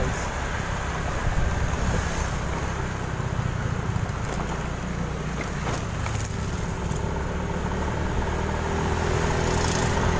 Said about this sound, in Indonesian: Debit airnya kenceng guys.